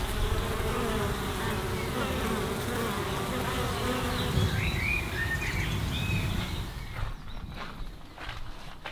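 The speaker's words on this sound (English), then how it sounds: "So we're gonna give this hive another box as well. There you go bees, loads more space." Dense, steady buzzing of many honey bees swarming around an opened beehive as a new box is added, loud and continuous outdoors with faint bird chirps in the background, thinning out near the end.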